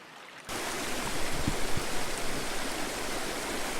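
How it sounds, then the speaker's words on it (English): Spring-fed creek at the Jack Creek headwaters, where springs gurgle out of a hillside in the Deschutes National Forest: a steady, close rush of flowing water that starts abruptly after a brief quiet moment and continues evenly. "springs gurgle out of the hillside and form the creek"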